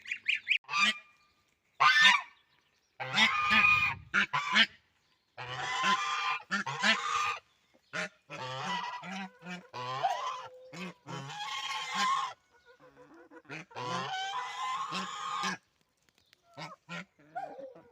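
Geese in a farmyard honk loudly in repeated bursts and clusters of calls, some overlapping, with short quiet gaps between them.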